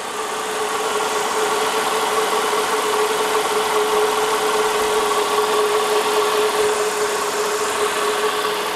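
A car engine idles steadily in the background during a battery and alternator test, a constant mid-pitched hum with a faint tonal whine and no speech.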